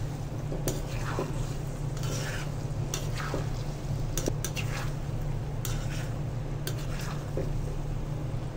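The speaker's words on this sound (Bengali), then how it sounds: "লাল গুঁড়ো মরিচ দিয়ে দিচ্ছি, আবার নাড়াচাড়া দিয়ে দিচ্ছি।" Olive pickle with red chili powder is stirred in a pan, with repeated scraping and clinking strokes of the spoon over a steady low hum and faint sizzle, close by and with no speech.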